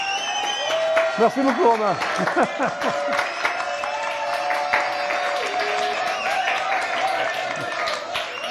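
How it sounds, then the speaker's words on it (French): A studio audience on a French TV talk show breaks into a steady burst of applause under a bright musical sting, while a host speaks over the clapping. "Voilà, applaudissements."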